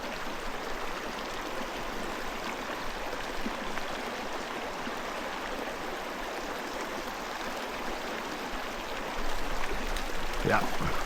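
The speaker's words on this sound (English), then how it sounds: "Streams like this are so fun." A small mountain cutthroat creek in Colorado rushes and babbles steadily, a constant close wash of flowing water that swells slightly louder near the end, with a brief faint squeak over it.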